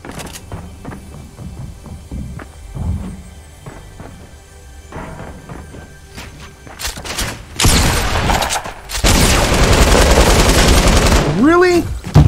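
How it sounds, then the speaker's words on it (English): Gunfire in the Fortnite video game: scattered sharp shots early on, then dense loud bursts of rapid firing and booms in the second half, with a player talking in the background. "There was two headshots with a shotgun."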